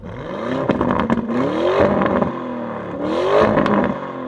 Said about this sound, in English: Alborz, give yours a rev as well so we can have a listen to that